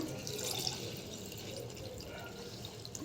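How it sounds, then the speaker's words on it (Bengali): Water poured into a pot for cooking rice, a soft continuous trickling and splashing, fairly quiet and close, lasting about three seconds without speech. "তো এবার ওর মধ্যে জল দিয়ে দেবো। পরিমাণ মতো জল দিয়ে দিলাম"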